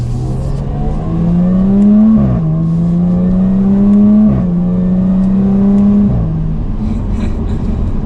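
A 2021 Jaguar F-Type R-Dynamic in dynamic mode pulls hard through the gears from second, its loud engine note rising steadily, dropping briefly at each of two quick upshifts, then climbing again, heard from inside the cabin.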